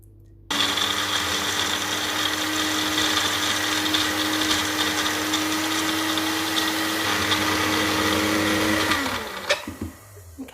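A food processor whirs with a steady high motor drone as it blitzes chickpeas for falafel, starting abruptly, holding for about eight seconds, then winding down and stopping, loud and close with no talking.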